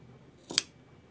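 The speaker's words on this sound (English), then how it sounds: "going to cut a little triangle off right before your stitching" A single quick snip of scissors trims a small triangle off a fabric corner near the stitching, close and crisp against a quiet background.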